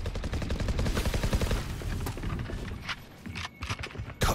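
Shotgun gunfire in a video game: a dense run of sharp, loud shots in rapid succession that thins into a few scattered blasts near the end.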